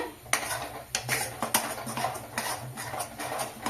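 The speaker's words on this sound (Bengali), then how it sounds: "বাড়িয়েই নাড়তে হবে।" Egg halwa is stirred hard in a pan over high heat, a spatula scraping and knocking against the metal in a quick, uneven rhythm of close, fairly loud strokes with no talking.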